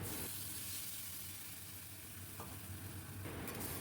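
Stirring a vegetarian bitter gourd curry with potato, pumpkin and sweet potato in a pan after adding spice paste and water, with a steady sizzle and hiss and a few faint scraping stirs, no talking.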